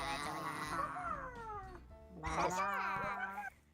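Cats meow and yowl loudly in long, sliding wails while a person sings along, the two voices overlapping up close.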